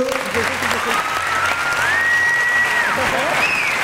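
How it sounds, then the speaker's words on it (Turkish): Audience applause for a students' school play staged by Anabilim schools in 2019, a steady, dense clapping that fills the whole stretch, with a whistle-like tone sliding over it and some voices mixed in. "Bir alkışlar istiyorum."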